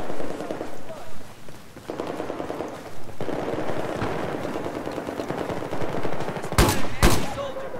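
Rapid machine gun bursts crackle throughout a Battlefield 4 multiplayer match, with repeated fire and a couple of sharp louder blasts near the end, mixed with game sounds.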